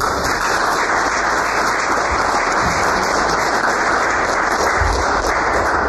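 A loud, steady round of applause from an audience at a 2014 book promotion for the women authors of "Tiha većina", dense clapping sustained without a break.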